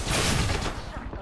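A sniper rifle shot in a video game, a loud, booming blast that fills the moment and then decays into a fading rumble.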